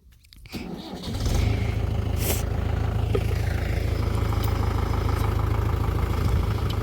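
A tractor engine in a paddy field rises from quiet to a loud, steady low rumble within the first second, then keeps running evenly and close by.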